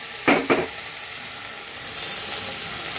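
Kharkon leaves wilt in a hot pan for a mashed leaf bharta, with two quick scraping stirs near the start followed by a soft, steady sizzle.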